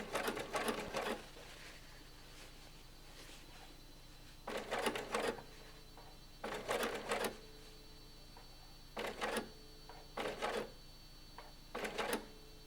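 A domestic sewing machine topstitches the fly zip on a pair of jeans in five or six short bursts of rapid mechanical stitching, each about a second long, separated by quiet pauses.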